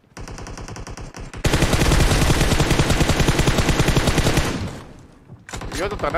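BGMI video game gunfire on the Livik map: a rapid automatic burst chatters loud and continuous for several seconds, preceded by a shorter volley and fading into quieter shots, with a player briefly speaking.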